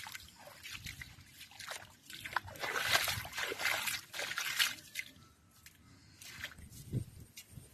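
Water trickling and sloshing as it runs off land into a field in darkness, a continuous dribbling flow with splashy surges that swell and fade, close by with no clear talk.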